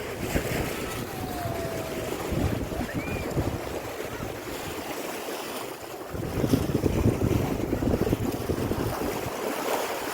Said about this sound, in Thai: บรรยากาศทะเลระยองนะครับ